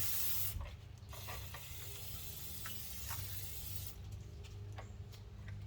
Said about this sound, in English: you're gonna have to spray both sides with brake cleaner before you actually put it on